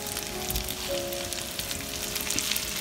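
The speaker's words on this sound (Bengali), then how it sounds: "এটাকে আমি একটু তেলে ফ্রাই করে নিচ্ছি," Turmeric-coated potatoes fry in oil for chicken biryani, a constant close sizzle with fine crackling and a faint steady hum underneath. No voices are heard.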